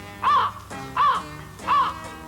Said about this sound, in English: Little Toad swung his bucket right at that mean old crow.